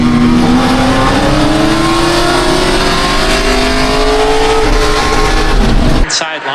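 Race cars accelerating in a GridLife GT race at Autobahn Country Club near Chicago: a loud, sustained engine roar rising steadily in pitch, then cutting off abruptly near the end.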